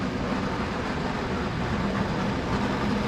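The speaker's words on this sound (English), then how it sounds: "this one runs a little train come out from the bottom here in just a second" A model train rumbles steadily along its track at a model train station, a continuous low mechanical whir and rattle close by.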